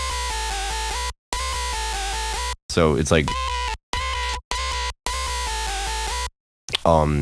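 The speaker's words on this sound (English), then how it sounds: "it's just like a insane distortion" A harsh brostep synth, distorted to the maximum with a wave shaper, blares in choppy bursts with abrupt cutoffs, some sections sweeping and warbling, while a voice speaks briefly.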